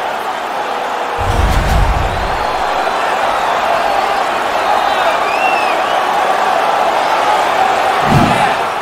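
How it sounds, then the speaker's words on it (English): A video-game hockey arena crowd in NHL 18, Buffalo Sabres against Hartford Whalers in a playoff game, roars steadily and loudly after a fight, with a couple of dull thuds and some faint voices in the din. "The crowd is ecstatic."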